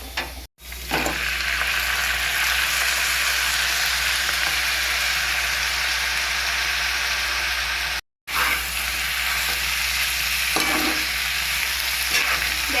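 Marinated chicken added to golden fried onions in a pan over a medium gas flame for a spicy thecha chicken, frying with a loud continuous sizzle while being stirred, with two brief dropouts and no voices.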